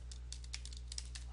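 A computer keyboard is typed on to enter a file name, giving a brief quick patter of light key clicks over a low steady hum.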